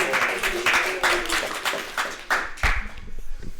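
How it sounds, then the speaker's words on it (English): Scattered clapping from a small group at a team Q1 2024 PR reveal, with a quick run of hand claps and a few murmuring voices, growing thinner toward the end. "Let's give a clap for Steven."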